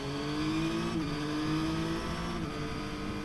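A 2024 Yamaha MT-09 motorcycle engine pulling hard under acceleration, loud and close, its tone rising with a brief dip as it shifts gear.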